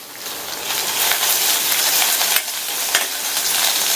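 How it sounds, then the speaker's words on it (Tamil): Cloves, ginger and garlic frying in oil in a pan for a cauliflower and pea masala, giving a loud, close, continuous hissing sizzle with a couple of brief stirring scrapes and no voices. "2 கிராம்பையும் சேர்த்து நல்ல வாசனை வர வரையும் வறுத்துக்கலாம்"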